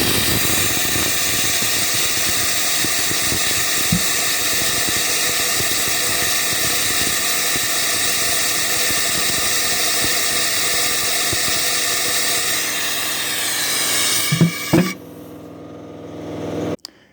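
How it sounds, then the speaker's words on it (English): A very noisy air compressor runs steadily, powering a homemade pneumatic shop vac, a loud continuous drone and hiss that holds for most of the stretch, then cuts off near the end with a couple of clunks before quieter residual hiss. "now I have the very noisy compressor shut off"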